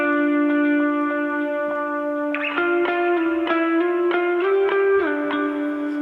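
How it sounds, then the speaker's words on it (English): An electric guitar solo played alone, sustained notes through distortion and chorus effect with echo, starting on a long held tone before a run of quicker picked notes and bends. "one final piece to the puzzle was the guitar solo, which I'll play on its own to start."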